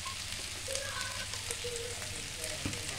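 Malai onion sabzi with cream and onion bubbles and sizzles in a pan, a close, continuous crackling fry with small pops and spits throughout.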